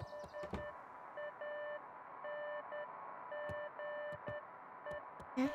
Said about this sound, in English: A faint electronic sound floated in the air.